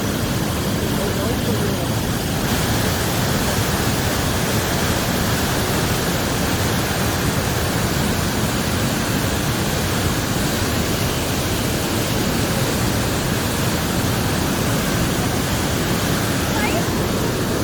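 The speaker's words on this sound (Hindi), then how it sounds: "ये गहरा कुआं है, यहाँ पर ये पानी गिरता है" Water plunging into a deep well in Pokhara, Nepal, a steady, dense roar of falling water that holds loud and unbroken throughout.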